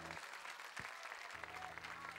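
Audience applause for cabaret performer Maurizio Bronzini at the Sganassau 2014 show in Bellaria, with faint, steady clapping from a crowd throughout and a low murmur beneath.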